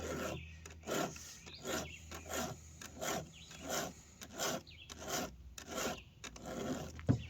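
A hand file sharpens chainsaw chain teeth in about ten regular back-and-forth rasping strokes, each a crisp metallic scrape with short pauses between, close and clear with no talk.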